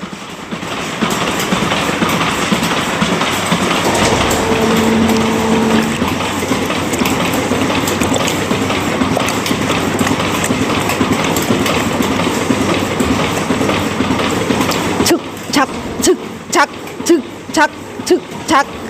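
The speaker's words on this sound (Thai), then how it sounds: "คือเสียงรถไฟ เสียงรถไฟบานเฮา" A train rumbles steadily nearby, a constant rolling roar that turns into rhythmic clickety-clack beats of wheels over rail joints toward the end.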